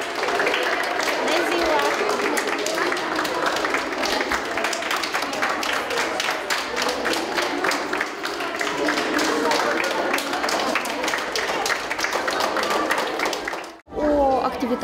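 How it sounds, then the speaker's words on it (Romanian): School students at a lyceum in Rezina applaud to welcome kindergarten preschoolers. Dense, continuous clapping from a large group fills the whole stretch with crowd noise and chatter, and breaks off briefly near the end. "Actualii elevi ai liceului i-au întâmpinat pe preșcolari din grădiniță cu aplauze."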